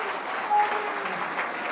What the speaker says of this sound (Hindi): जोरदार ताली आपके लिए हमारे तरफ से